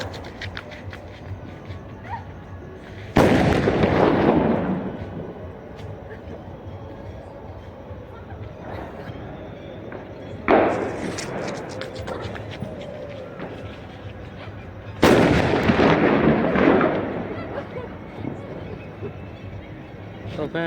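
Firecrackers burst during a Ram procession in Bhavnagar, with three loud broadband blasts spaced several seconds apart over a steady outdoor crowd murmur.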